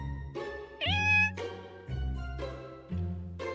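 A large cat and a kitten indoors, with repeated close, loud cat vocalisations, low drawn-out growling yowls interleaved with a rising meow, several bursts in a row.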